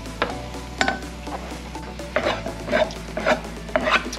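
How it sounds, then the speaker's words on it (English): A thick sweet mixture stirred in a pan over the fire, with a spoon scraping and knocking against the pan in irregular strokes, close and moderately loud, a faint sizzle underneath. "So I'm gonna continue to mix a little bit more"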